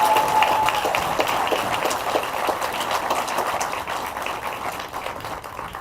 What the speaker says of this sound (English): Let's give all of our graduates another round of applause.